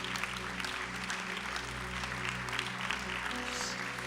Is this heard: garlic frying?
no